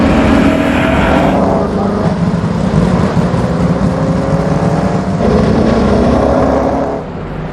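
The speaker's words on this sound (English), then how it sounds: "Somewhere that's never echoed to the sound of its thunderous 3-litre straight-8 engine." A Mercedes-Benz 300 SLR with a 3-litre straight-eight engine drives through London streets, its loud, steady engine roar sustained and close throughout, with rising and falling pitch as it accelerates.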